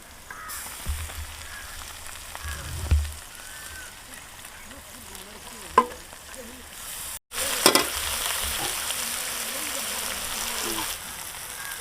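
Tomatoes fry in a pan for a big fish head curry, producing a steady soft sizzle with occasional stirring scrapes and clatter, a brief cutout midway, and the sizzle louder afterward.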